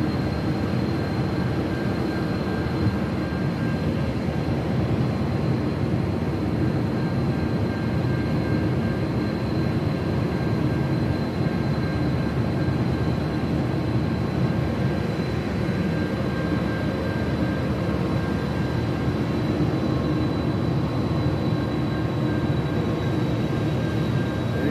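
An Amtrak passenger train rolling along a small-town line toward Chicago, heard as a steady, loud rumble with a faint whine that holds on throughout, with no talking.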